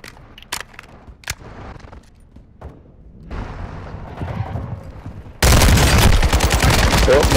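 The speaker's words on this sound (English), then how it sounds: "You are taking offensive fire." Gunfire during a Call of Duty: Modern Warfare II DMZ match, a few sharp scattered shots, then a rising clatter that ends in a dense, loud roar of sustained fire.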